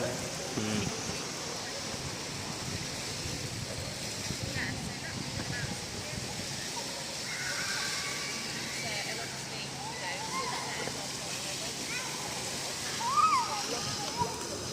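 Water runs and splashes steadily at an outdoor bathing spot, a constant rushing wash with a brief louder splash near the end, while voices talk over it throughout.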